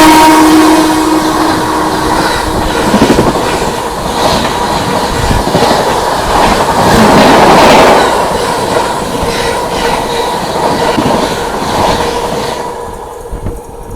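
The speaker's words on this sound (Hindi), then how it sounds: "लगभग भाई 2 ट्रेनें पास हो गई यहाँ से" Trains pass on an Indian Railways line: a loud, close rolling rumble with rhythmic wheel clatter, a brief horn note at the start and some squeal, swelling in the middle then thinning out at the end.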